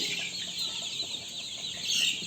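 Desi chickens on a poultry farm raise a continuous, dense flock chatter of clucks and squawks at a fairly even level, with no talk over it.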